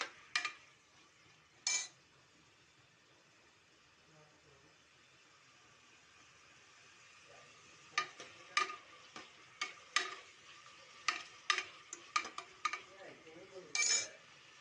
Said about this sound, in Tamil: இஞ்சி பூண்டு பேஸ்ட்டையும் இதில் சேர்த்தாச்சு. நல்லா பொன்னிறமாக வர மாதிரி